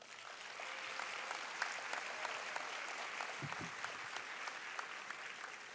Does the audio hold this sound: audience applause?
yes